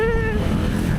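A Honda Giorno 125 scooter fitted with 13 g flyballs and 1200 rpm springs runs with a steady, loud, close engine drone. A brief voice-like tone rises over it at the start, then fades.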